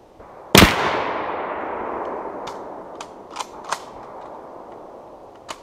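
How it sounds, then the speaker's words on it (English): A Mosin Nagant bolt-action rifle fires a single loud, sharp shot outdoors at boulders, followed by a long fading echo and a few faint metallic clicks afterward. "Old bolt gun."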